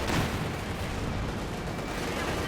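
Artillery and gunfire in the Company of Heroes 2 strategy game battle make a dense, continuous roar of overlapping blasts and shots, loud and unbroken throughout, with faint voices mixed underneath.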